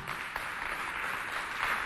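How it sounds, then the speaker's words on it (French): Audience applause welcoming election candidates onstage, a steady mid-distance wash of many clapping hands that runs unbroken and fairly even throughout. "On les applaudit bien fort"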